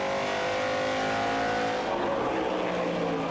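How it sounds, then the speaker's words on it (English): A Pinty's Series stock car engine roars loudly and steadily on track, a dense, constant drone from close by that shifts slightly in pitch partway through. "I want to hear that engine all the way down a straightaway"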